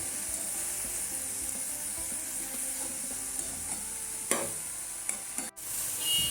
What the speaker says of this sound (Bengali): তো এবার আমি ভালো করে এটাকে নেড়ে নিচ্ছি